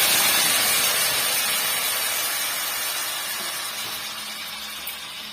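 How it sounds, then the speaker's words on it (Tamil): Chopped tomatoes hitting hot oil in a kadai over high flame for Andhra-style tomato chutney, a dense, loud, continuous sizzle that eases off gradually, with no voices. "நம்ம கட் பண்ணி வச்சிருக்க தக்காளி பழத்தை ஆட் பண்ணிடலாம்"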